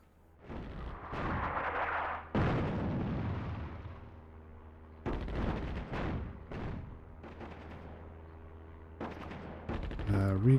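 Artillery batteries firing in the North Africa real-time strategy game Attack at Dawn, with several heavy booming blasts spaced irregularly, each trailing off in a long rumbling decay.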